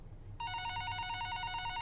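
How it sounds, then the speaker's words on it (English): A telephone rings with a steady, repeating electronic trill that starts abruptly and carries on without a break in a quiet office, with no voices. "phone rang 3 more times as we sat across the desk in my office"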